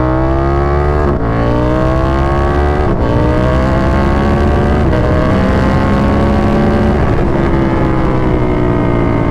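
A KTM 1290 Super Duke R motorcycle ridden in track mode, its engine roaring loud and close with steady high revs and rising, shifting pitch through several gear changes, heard alone without talk.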